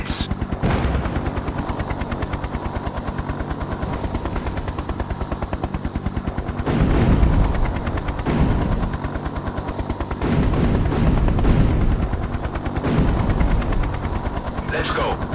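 Rapid gunfire and heavy cannon bursts from a Hind attack helicopter in a combat video game, loud and sustained over a steady rotor and engine drone, in repeated bursts.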